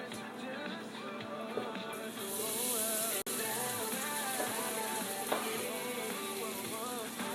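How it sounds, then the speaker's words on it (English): Chopped onions and garlic fry in a pot with a soft, steady sizzle, quiet and close, joined by a brief clatter and a faint tonal hum running beneath. "you're gonna put the onions, the chopped onions and chopped garlic inside the pot"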